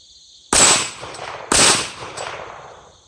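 A 2018 Kel-Tec PMR 30 pistol fires .22 Magnum rounds at steel targets outdoors, two sharp loud cracks about a second apart, each followed by a short fading echo.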